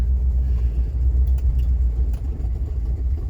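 A cheap Rolls Royce engine labours under load on its first drive with the brakes holding it, a loud, steady low rumble that carries throughout, with no talk over it.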